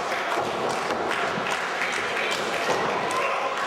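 A wrestling-event crowd applauding and cheering after a match, a dense, steady wash of clapping and crowd noise throughout, close and full.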